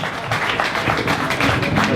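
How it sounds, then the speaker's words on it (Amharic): Warm applause from an event audience, a steady dense wash of clapping that holds at a fairly loud, even level throughout, with no voices over it. "ሞቅ ያለ ጭብጨባ አድርጉላቸው ፕሊዝ፣ ፕሊዝ።"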